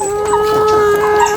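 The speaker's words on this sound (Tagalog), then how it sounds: "nagkakagulo yung manok kasi ang alam nila may uod yan" Farm chickens cluck and squawk in a brief excited commotion, expecting worms, with a loud close sustained call over a busy flock.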